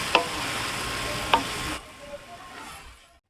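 Vegetables for japchae stir-frying in a pan with sauce added, a steady broadband sizzle with two brief utensil clinks, dropping to a quieter fading hiss halfway through.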